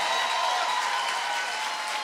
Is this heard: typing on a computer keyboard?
no